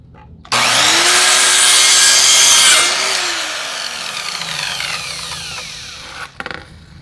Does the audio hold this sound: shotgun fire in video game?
no